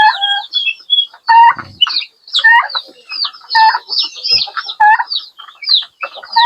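Young chickens being treated for fowlpox cluck and chirp continuously, loud and close, with overlapping bright calls and no talking.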